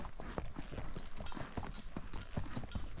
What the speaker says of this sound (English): today I'm being lazy and going up by horse.